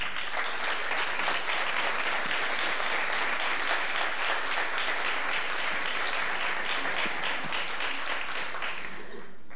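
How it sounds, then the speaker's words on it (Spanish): A dance school's end-of-course closing ceremony audience applauds warmly for José Manuel Sabio's video, a dense, steady wash of many hands clapping that holds for several seconds before easing off at the end. "un aplauso, ¿no?"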